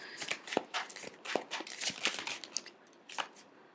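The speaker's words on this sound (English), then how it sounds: "Let me see if I can shuffle this a little bit more." A deck of tarot cards shuffled by hand in short crisp bursts of riffling and slapping, close and fairly quiet, with brief pauses between passes.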